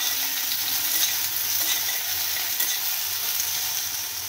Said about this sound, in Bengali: একটু ভেজে নিতে হচ্ছে কুলগুলোকে।